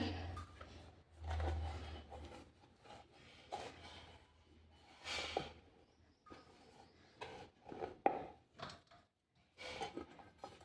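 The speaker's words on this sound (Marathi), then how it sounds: "आता याला आपण कट करून घ्यायचं आहे गोल शेप द्यायचं आहे" Rolled poha thalipith dough is cut into a round shape on a board, giving soft, intermittent scrapes and dull taps that come in short bursts, fairly quiet and close, with no voices.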